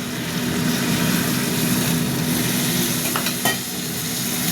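Food frying in a pan with a little water and salt, stirred steadily; a continuous loud sizzle with a faint hum and a brief scrape of the utensil near the end.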